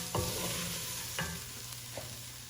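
Chopped onions cooking in a pan ahead of ground beef for lasagna, giving a steady soft sizzle with a few sharp scrapes of a stirring utensil, close and with no talking.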